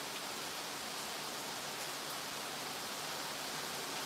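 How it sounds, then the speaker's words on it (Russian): Heavy rain pours outside as a dense, even hiss that fills the whole stretch with no breaks. "У нас дождь льет."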